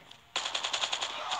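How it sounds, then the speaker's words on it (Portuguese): Automatic gunfire from the mobile shooter game Call of Duty Mobile bursts in abruptly, a rapid rhythmic string of about ten close, loud shots that continues steadily with no talking. "Ah, então é um disparo automático?"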